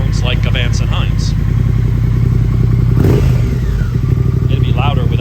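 A motorcycle with its stock exhaust idles loudly and steadily close by, with a deep rumble and clattering, while someone talks over it.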